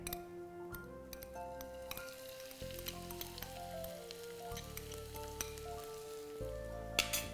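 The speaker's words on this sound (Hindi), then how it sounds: "अभी जो शिमला मिर्च हमने कट करके रखे थे, इसे हम डाल देंगे तेल में।" Chopped bell peppers (capsicum) sizzling in about two tablespoons of hot oil in a pan, a steady close frying hiss broken by clinks and ticks of stirring, with a background hum and no talking.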